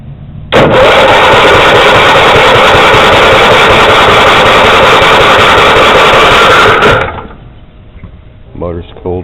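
A GM 10SI/12SI-style alternator spun up on a bench test rig, a loud steady mechanical whir that starts suddenly, runs evenly for about six seconds, then cuts off, followed by faint handling noises.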